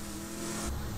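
A vehicle picked up at a Catch-a-Ride station in Borderlands 2 gives a brief, loud engine drone that rises slightly as it drives, with no talk over it.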